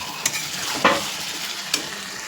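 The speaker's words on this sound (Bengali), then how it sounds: "তো এটা দিয়ে ভাজতে হবে, ভাজতে ভাজতে আমাদের রান্নাটা তখন শেষ হবে।" Chicken gizzards fry in a pan. A soft, steady sizzle runs throughout, and three sharp scrapes of stirring cut through it with no talking.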